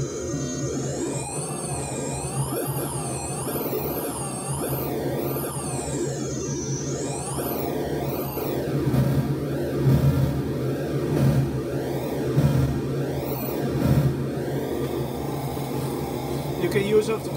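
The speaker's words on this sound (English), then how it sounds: "And then you have this FM modulation sound like this." Noise/glitch synth module producing FM modulation tones: warbling, wavering pitch sweeps rising and falling over a dense noisy bed, steady and fairly loud throughout with no talking.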